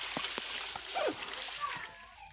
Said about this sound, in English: After you have gotten this lemongrass, make sure you wash it very well inside water.